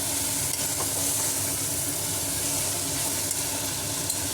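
Brinjal and curry leaves frying in a pan for a brinjal and drumstick curry, stirred the whole time. There is a steady, close sizzle with faint scraping from the stirring and no talk.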